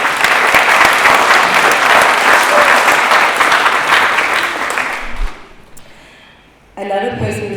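Loud applause from the audience at a graduation ceremony, a dense clapping roar lasting about five seconds before fading out, after which a voice starts speaking over the microphone.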